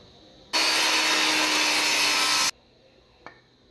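A cross cut saw slices through a square piece of wood in a woodworking shop, one loud continuous two-second cutting roar that stops abruptly, followed by a quiet room and a single faint knock.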